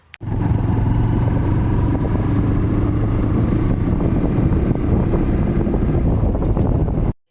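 A motorcycle just out of the showroom being ridden to a petrol pump, a loud continuous rush of wind buffeting the microphone over a steady engine drone, ending abruptly.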